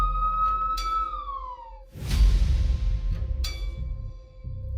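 Ambulance siren sound effect with rising and falling wails that sweep down, then a burst of broadband noise, then the tones return, fairly loud with no talk.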